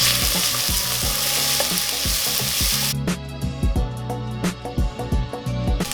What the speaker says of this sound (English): In go my onions. Love that sizzle.